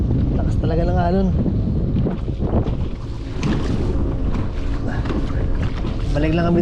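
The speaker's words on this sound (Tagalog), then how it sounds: "Lakas talaga ng alon." Strong sea waves rock and splash against a fishing kayak offshore, with heavy wind buffeting the microphone throughout. Someone talks over the rough, continuous wash of water.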